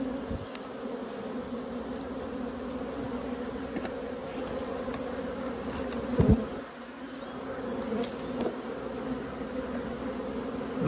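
A massive honeybee colony buzzes steadily and close during a hive frame inspection, a dense continuous drone with faint brief knocks and no talk.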